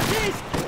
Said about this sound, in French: La kiffe cette arme, c'est fou. Une sulfateuse le truc.